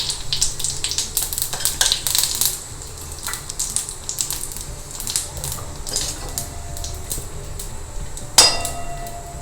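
Mustard seeds, urad dal and cumin hit hot oil in a pan while a Tamil home cook prepares kovakkai, giving a steady crackling sizzle with bursts of sharp popping and a louder clack near the end.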